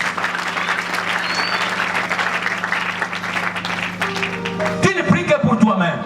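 A church congregation at a youth evangelical gathering claps and cheers in a sustained roar of applause, with a voice carrying over it and louder clapping swelling near the end.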